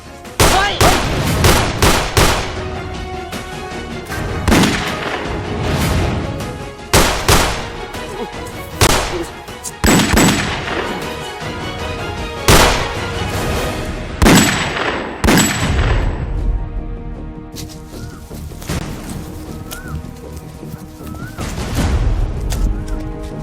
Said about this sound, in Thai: เสียงปืนดังสองที่